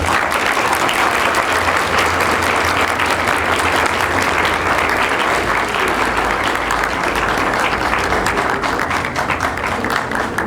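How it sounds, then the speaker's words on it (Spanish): An audience at a university inaugural lecture bursts into loud, sustained applause, dense clapping filling the room steadily throughout. "quisiera que le regalaran un fuerte aplauso"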